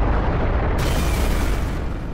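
A deep, roaring nuclear explosion rumble that swells abruptly and sustains as a dense, noisy blast without any voices.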